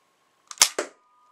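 Two quick sharp pops of a modified NERF Night Finder foam dart blaster firing in a quiet room, close to the listener.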